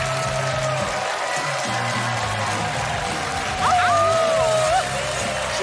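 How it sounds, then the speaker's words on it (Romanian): An audience applauds a comedian coming on stage at a stand-up show, a steady broadband patter of clapping with music playing underneath and a brief higher musical flourish near the end. "Doamnelor și domnilor, aplauze pentru Iulian Bică."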